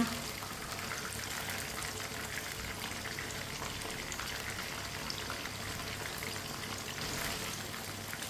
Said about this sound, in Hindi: अब इसे ऐसे ही घुमाते फिराते अच्छी तरह पका लेंगे दोनों साइडों से।